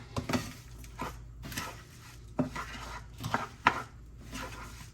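A spoon stirs mac and cheese ingredients, including shredded Parmesan and smoked paprika, in a bowl, making intermittent clinks and soft scrapes with short pauses between strokes, close and moderately loud.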